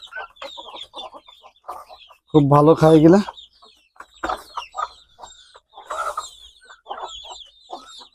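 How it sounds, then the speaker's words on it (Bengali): Chickens clucking and calling while eating freshly cut grass, with a rooster-like call standing out, and someone speaking over the birds. "খেতে দিচ্ছি মুরগিরে,"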